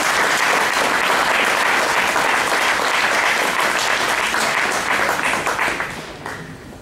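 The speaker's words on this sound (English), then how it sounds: "Round of applause." Sustained applause from a general meeting audience, a dense, loud wash of many hands clapping that holds steady and then tapers off at the end.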